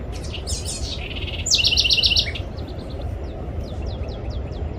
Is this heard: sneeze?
no